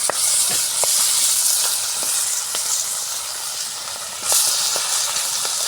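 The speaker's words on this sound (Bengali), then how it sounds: "ঘানি সর্ষের তেল দিয়ে ভাজা হচ্ছে" Fish heads fry in cold-pressed mustard oil with a steady, loud, hissing sizzle that runs throughout, broken by small pops and crackles, with a brief surge of louder spitting near the end and no voices.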